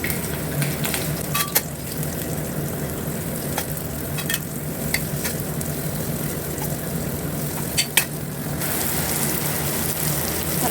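Sliced valli kizhangu yam fries in a pan with a steady, close sizzle, and occasional sharp clicks of a utensil turning the pieces.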